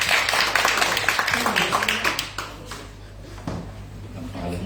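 Audience at a worship night clapping in a quick, fairly light burst that fades out, with a voice talking over it.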